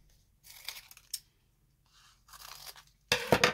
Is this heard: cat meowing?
no